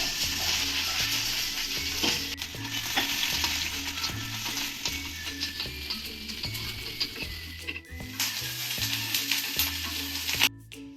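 Chopped onion and tomato fry in a hot pan, a constant loud sizzle broken by regular scraping and stirring strokes, with no voices.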